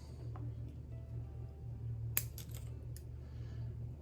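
Shears snipping the growing tips of a ficus tree during pruning: a few quick, crisp cuts clustered together, fairly close, over a steady low hum in an otherwise quiet space.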